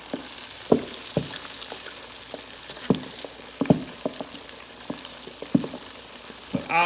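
Pig tails frying in hot grease, with sharp pops and crackles scattered irregularly over a steady sizzle, close and fairly loud, with no talking.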